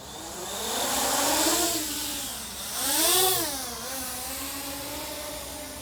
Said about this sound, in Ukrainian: Двигуни запущено. Тихіше працюють.